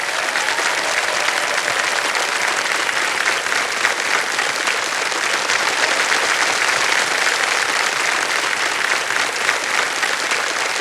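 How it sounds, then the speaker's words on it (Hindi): A studio audience at a televised quiz show claps in a dense, steady burst of applause, loud and unbroken for about eleven seconds with no voices over it. "ताली बजती रहे।"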